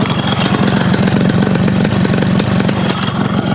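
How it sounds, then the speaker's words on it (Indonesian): A kick-started motorcycle engine in good condition idles loudly and close by, a steady rapid putter with no voices. "Seperti itu suaranya."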